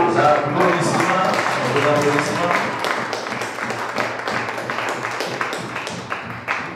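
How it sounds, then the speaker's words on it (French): An audience at a technical-group election gathering claps in a loose burst of applause. The clapping is strongest at first and then thins into scattered claps. "Sous vos applaudissements."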